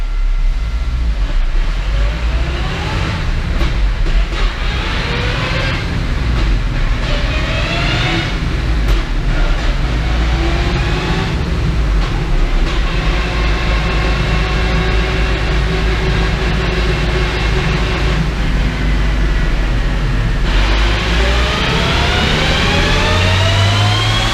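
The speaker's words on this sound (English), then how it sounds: "I'm just going to do another little power run now, just a nice little sweep through" A 300 HP Ford Transit van fitted with a MaxxECU mini roars on a dyno during a power run, its engine note climbing again and again in loud, sustained sweeps over a heavy rumble throughout.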